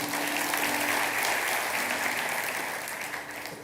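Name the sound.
congregation applause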